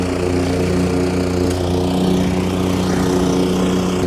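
A Ybravo 25-inch commercial lawn mower engine drones steadily up close, a constant loud hum with faint scattered ticks as it picks up lawn aeration plugs.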